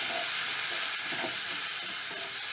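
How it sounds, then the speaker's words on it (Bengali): Ginger garlic paste being stirred into fried onions in a pan, giving a steady close sizzle with soft scraping stir sounds throughout. "এটাকে একটু নাড়াচাড়া করে নিই।"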